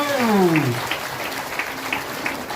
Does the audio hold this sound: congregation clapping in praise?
yes